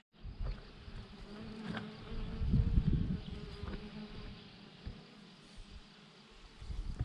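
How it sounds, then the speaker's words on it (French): Bees buzz around the last remaining flowers in a farm crop field, a soft, wavering hum that swells and fades as insects pass close to the microphone, with no voices. "dépêchez-vous les abeilles"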